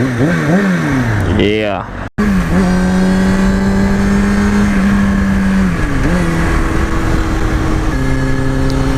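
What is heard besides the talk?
2005 Kawasaki ZX6R 636 motorcycle engine accelerating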